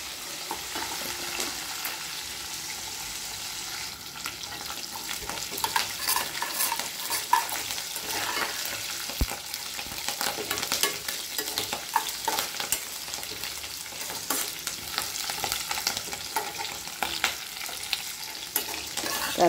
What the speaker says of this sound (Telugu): శనగపప్పులు, తర్వాత కరివేపాకు, పచ్చిమిర్చి, ఉల్లిగడ్డ, వెల్లుల్లిపాయలు వేసినాం.